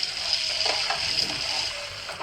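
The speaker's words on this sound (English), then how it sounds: "I'll just run cold water" Cold tap water running onto cooked rice in a sieve, a continuous close splashing rush held steady throughout at moderate loudness.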